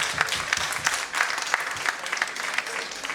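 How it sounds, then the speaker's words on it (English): An audience at a Lions District A3 GLT meeting claps steadily for three speakers, a dense, even roomful of applause that holds throughout, with a few individual claps standing out near the front. "So a big round of applause to our"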